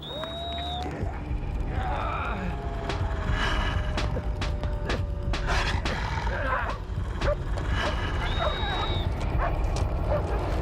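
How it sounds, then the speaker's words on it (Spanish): Dogs on a neighbouring farm bark and yip in scattered, fairly distant bursts, mixed with sharp knocks and whistling tones in a busy, dramatic soundscape. "El frenesí de los golpes parece haber llamado la atención de los perros de la granja vecina"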